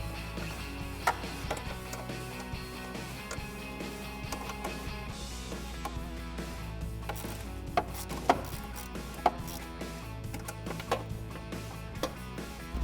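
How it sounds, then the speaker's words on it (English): A 10mm socket wrench tightening nylon lock nuts on a cold air intake install on a 2016-2020 Tacoma 3.5L V6: steady ratcheting clicks and mechanical clatter, with a few sharper knocks, and no talking. "We can take a 10mm socket and wrench and tighten those up."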